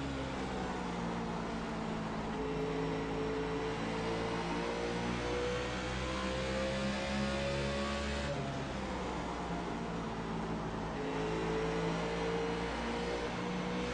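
NASCAR Nationwide race car engines in the iRacing game at Bristol, a steady droning roar with several layered engine tones shifting pitch as cars jostle and pass, continuous and without talk.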